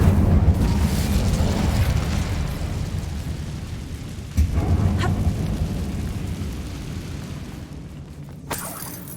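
The Incendio fire spell from Hogwarts Legacy bursts out as a loud, close, rumbling whoosh, with a second sharp boom midway and a brief crackle near the end.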